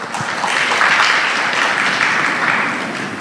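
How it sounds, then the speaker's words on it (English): An audience applauds at an education leaders' symposium on AI in Thailand, a dense, steady wash of clapping from a full hall that swells and holds for a few seconds without a break. "please give him one more round of applause"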